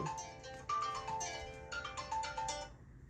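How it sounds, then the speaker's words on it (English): A mobile phone rings with a bright, melodic ringtone, its repeating chime-like notes loud and close with no voices, stopping abruptly just before the end. "that's my phone going off"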